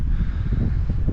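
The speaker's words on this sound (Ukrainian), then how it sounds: "Вибачаюся за вітер, якщо буде дуть." Steady low wind buffeting the microphone, rumbling and gusting throughout the short stretch with no speech, outdoors near rapeseed fields in Kryvyi Rih, Dnipropetrovsk region, Ukraine.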